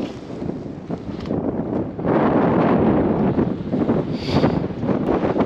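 Steady wind buffeting the microphone on flat open land in Argentina, a broad roaring rush that swells louder after a couple of seconds and keeps gusting throughout.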